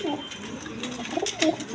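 Male pigeons for sale at a Bengali pigeon seller's, including feather-footed birds, give soft low coos that rise and fall over a steady background murmur, with a slightly louder burst near the end.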